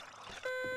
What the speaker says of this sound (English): Oh, I hear beeping.